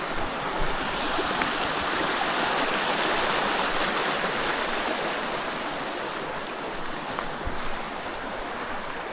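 Steady rushing of a stream on the Appalachian Trail, close and loud, a continuous wash of flowing water with no talking.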